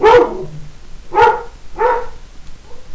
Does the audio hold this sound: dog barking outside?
yes